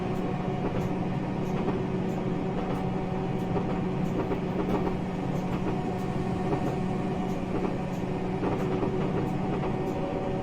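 A Class 506 electric multiple unit passing on the Manchester line in Train Simulator Classic, a steady rolling rail rumble with faint rhythmic clicks, continuous and fairly quiet throughout.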